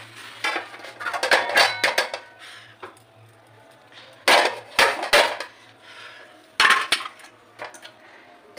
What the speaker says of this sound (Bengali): এবার আমি এইটা থালাটা চাপা দেবো।